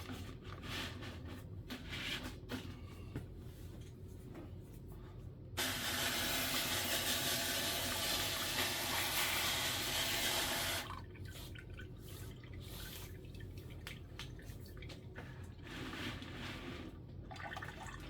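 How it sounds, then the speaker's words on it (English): Running water rushes steadily for about five seconds in the middle of the clip while something is rinsed during bubble hash making, with quieter handling noises before and after. "Give that a little rinse."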